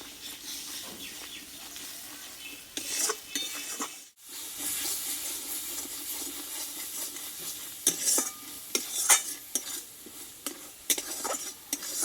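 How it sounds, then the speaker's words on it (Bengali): A spice masala with cashew and poppy seed paste is stirred in a pan, giving soft scraping and a faint sizzle, broken by a brief pause and scattered clinks of a utensil against the pan. "মশলাটার সঙ্গে ভালোভাবে কাজু পোস্ত বাটাটা আমি কষিয়ে নেবো"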